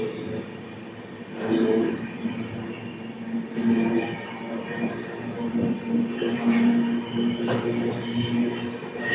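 A superfast express train, the Tirupati–Secunderabad Padmavati Express, runs past Tirupati West station with a continuous rumbling roar of wheels on rails and faint rhythmic clatter, heard steadily throughout.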